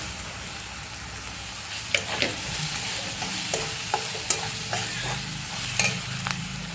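Spoon stirring turmeric powder into roasted chillies in a hot pan, soft continuous sizzle with irregular scraping and clinking knocks close by, no voices.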